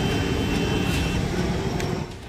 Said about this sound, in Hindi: जंगल और पहाड़ी इलाकों में हर तरफ हेलीकॉप्टर की गड़गड़ाहट सुनाई दे रही है।